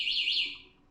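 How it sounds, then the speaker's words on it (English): Alarm chirp from a KK10S electric scooter: a loud, high-pitched warbling electronic tone sweeping up and down for under a second, then fading out. "So this button is for the alarm, I understand."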